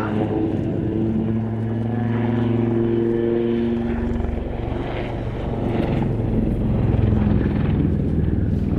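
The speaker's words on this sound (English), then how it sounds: "As the speed bleeds off, the aircraft will come into the hover" A Naval Wildcat HMA-2 helicopter slows into a hover, its steady rotor and engine drone with low thumping tones holding strong and fairly near throughout, no voices.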